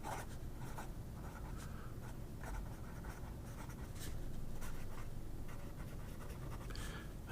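A fountain pen with a medium steel nib writes on Koji paper, giving a close, steady scratchy rasp broken into short strokes and pauses, with no voices.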